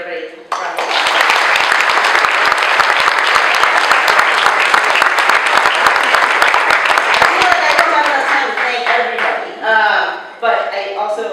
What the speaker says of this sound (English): Can I get everybody a round of applause?